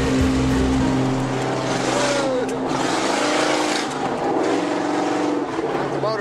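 Off-road vehicles churn through deep mud at a spring mudfest on a dune course, engines droning loud and continuous with splashing and revving throughout, while people talk over the noise.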